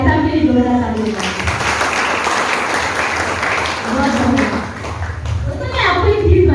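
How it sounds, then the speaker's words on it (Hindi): Loud, sustained applause from a training-session audience in a Patna venue, steady clapping filling several seconds and swelling again toward the end. "भाई साहब के लिए जोरदार ताली बजाएं।"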